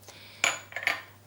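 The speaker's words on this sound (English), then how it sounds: "I prefer to use a spoon or a spatula, as we have here, just to blend the sugar through the cheese" Spoon or spatula blending mascarpone cheese with caster sugar in a mixing bowl, giving a few brief clinks and scrapes against the bowl, close and fairly quiet, with no talking.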